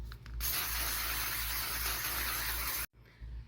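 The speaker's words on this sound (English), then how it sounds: "Setting spray time." A makeup setting spray bottle hisses in one long continuous burst lasting a couple of seconds, close and loud, then cuts off abruptly.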